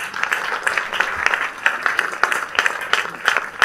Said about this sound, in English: Clap for Jesus Christ